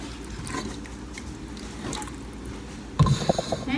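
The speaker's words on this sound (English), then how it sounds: "Gracie's gonna give that a stir while I get the black beans." A spoon stirs chicken broth with onions and tomato paste in a pot. There is a low, steady cooking hiss, then a few brief, close clinks and scrapes near the end.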